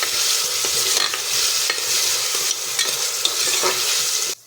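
Potatoes sauté in a pressure cooker for a papdi shaak, giving a steady, close sizzle broken by repeated scraping stirs, with no talking.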